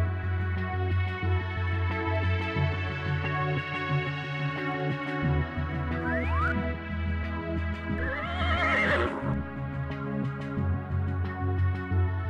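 A horse whinnies in an animated Tamil story, a long, loud harmonic neigh with a rising, quavering burst near the end, heard alone without talk.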